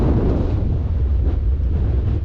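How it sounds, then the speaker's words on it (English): Wind buffets the microphone in the open Scottish Highlands, a steady loud low rumble that carries on without a break for the whole stretch, with no voices or other sounds cutting through. "And with some wind noise now"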